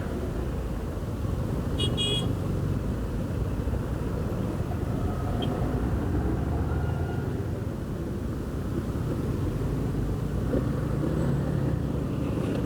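Heavy, congested traffic at a road intersection, heard from a Honda CB150X motorcycle, gives a steady low engine and road rumble throughout, with a couple of faint horn toots in the distance.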